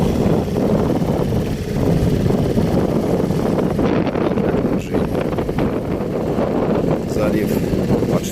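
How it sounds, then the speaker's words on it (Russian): Wind blows hard over a lake during a fishing trip, buffeting the microphone in a constant low rumble with water sounds mixed in. "Ветер так и не утих."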